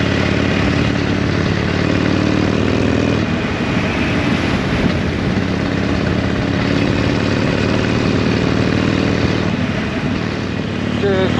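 Harley-Davidson motorcycle engine rumbling steadily during a ride, loud and continuous with broadband road and wind noise throughout.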